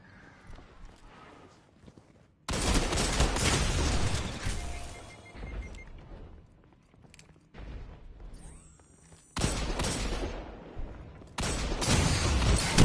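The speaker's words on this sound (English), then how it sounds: "He got me with the shotgun." Shotgun blasts in a video game ring out as several loud, sharp bursts, separated by quieter stretches of faint background noise and light game sounds.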